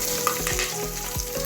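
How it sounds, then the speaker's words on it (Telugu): Seasoning crackling and spluttering in hot oil while vegetables are cooked, a dense, continuous sizzle with sharp pops and a few stirring scrapes, close and loud with no talking. "చిట్టపట్లాడుతుంది."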